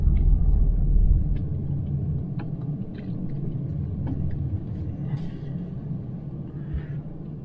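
A skid steer's engine runs with a steady low rumble close by, its loudest stretch in the first second before it settles to an even drone, with a few faint clicks and knocks on top.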